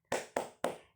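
Three sharp, evenly spaced claps from a class doing the 'tepuk semangat' clapping chant, each a crisp burst with a short decay, close and fairly loud with no talking.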